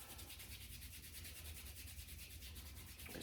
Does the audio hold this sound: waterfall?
no